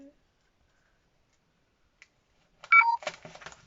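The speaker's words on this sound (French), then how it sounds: "J'ai la sonnerie de batterie." A short low-battery warning beep, two quick tones rising then falling, sounds after near silence during scrapbook binding, followed by brief clicks and handling noise.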